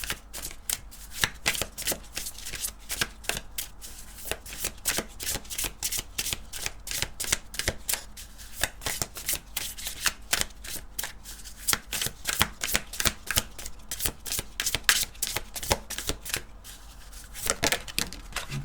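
Oracle cards being shuffled by hand, a steady run of quick crisp riffles and flicks going on throughout, close and fairly loud, with no talking.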